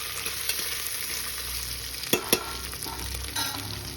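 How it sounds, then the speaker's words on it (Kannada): Vegetables such as potato sautéing in oil in a pan, a continuous close sizzle broken by a few sharp scraping stirs, with no voices. "ಈ ಥರ ಎಣ್ಣೆ ಇದರಲ್ಲೇ ಒಂದು ಸ್ವಲ್ಪ ಹೊತ್ತು ಬಾಡಿಸ್ಕೊಳ್ಳೋಣ"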